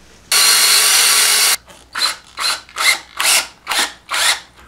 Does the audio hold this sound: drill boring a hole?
yes